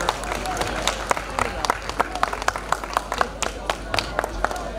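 A concert audience claps for the evening's organizer, Ebu Muslim Bulut, in a steady run of many overlapping hand claps that fill the hall at moderate loudness, carrying on over a low background murmur.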